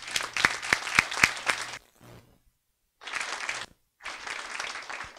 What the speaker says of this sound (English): applaud both Keith Faber and Zack